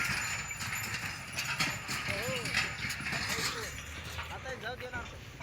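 Rhythmic hoof clopping and rolling wooden wheels of bullock carts hauling sugarcane, with people talking nearby and a truck turning over a busy outdoor background.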